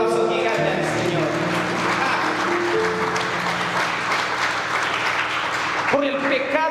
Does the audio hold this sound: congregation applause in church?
yes